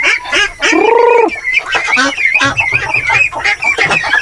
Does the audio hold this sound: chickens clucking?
yes